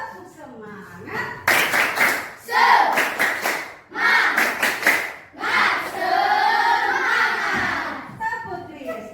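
A group claps together in a brisk rhythmic pattern, mixed with children's voices chanting and shouting loudly in Indonesian throughout, in a Christian religious education class.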